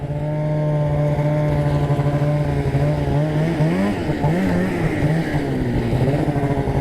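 A snowmobile engine drones loudly and continuously while being ridden, its pitch steady at first, then wavering up and down as the throttle changes.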